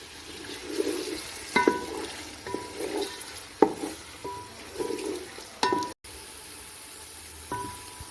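Chicken pulao with garlic and ginger paste cooking on a low flame, a soft steady sizzle with intermittent stirring scrapes and clinks of a spoon against the pot, fairly close and moderate in level, no talk.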